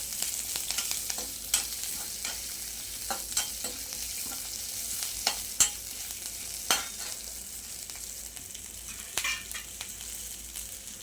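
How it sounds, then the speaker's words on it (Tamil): Onion and garlic frying in a pan for a garlic-pepper kulambu, a steady hissing sizzle broken by frequent sharp spatula clicks and scrapes, close and moderately loud, with no speech. "வெங்காயம், பூண்டு போட்டு அதில் ஒரு வதக்கு வதக்கிடலாம்."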